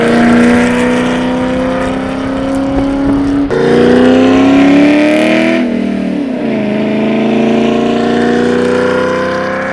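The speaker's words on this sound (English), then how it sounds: "As you can tell, the car sounds pretty good now." A car's exhaust, fitted with Kooks long tube headers, an X-pipe and high flow cats, drones loudly while rolling, rising in pitch through the gears with a sharp shift partway through.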